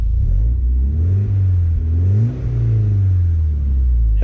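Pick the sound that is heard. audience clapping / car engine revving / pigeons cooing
car engine revving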